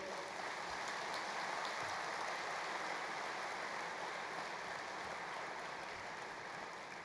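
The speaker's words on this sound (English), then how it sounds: "Would you please put one more round of applause for the Prime Minister?" An audience applauds the Prime Minister at the formal opening ceremony of the African Development Bank Group's 52nd Annual Meetings in India: a faint, even wash of many hands clapping that holds steadily without breaks.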